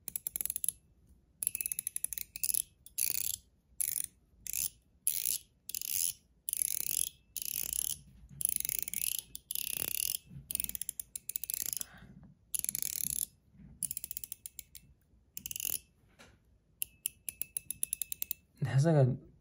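A metal mechanical fidget slider is slid back and forth, giving bursts of bright ringing pings and ratcheting clicks in an irregular rhythm, close up, with short pauses between runs and no talk.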